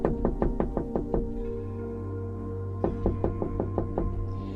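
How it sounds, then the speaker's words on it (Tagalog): A door is knocked on in two quick bursts of firm, evenly spaced raps, six or seven in each, close and loud over a steady low hum with a short pause between the bursts. "sunod-sunod na ang pagkatok sa kanyang pinto."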